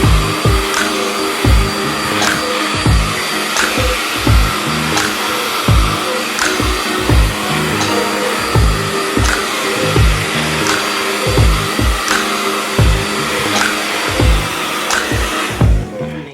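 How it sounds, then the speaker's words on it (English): A handheld hair dryer blows steadily and loudly at the roots of 4B curly, bra-length hair during a braid-out routine, with a continuous whir broken by regular soft bumps and clicks as it is moved. "You don't blow dry this piece here, just here, the roots and a little bit of the shaft."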